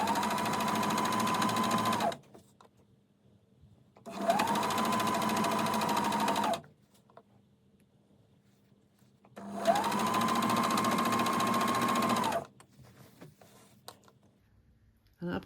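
A sewing machine runs a straight seam along a waistband in three long, steady bursts of fast stitching, each about two and a half seconds, separated by near-silent pauses with faint handling noises.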